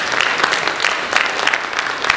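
A debate audience bursts into steady, dense applause, a close wash of clapping hands sustained throughout without pause.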